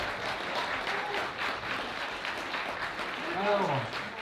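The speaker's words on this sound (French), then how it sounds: "Applaudis." An audience at a furry convention opening ceremony breaks into applause, steady clapping throughout with a voice or cheer rising over it near the end.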